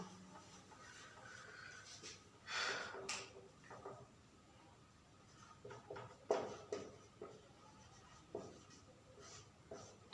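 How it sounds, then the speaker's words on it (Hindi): Pen or chalk scratching out a list of country names, faint and intermittent, with short scratchy strokes separated by quiet pauses in a still room. "तो उसको हम लोग लिख लेंगे।"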